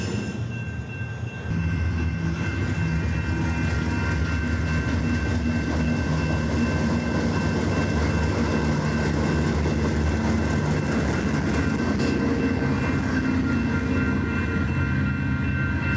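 Train passing close by on a rainy day in Scotland, a loud continuous rumble and rattle of wagons that swells in after a quieter start and stays steady.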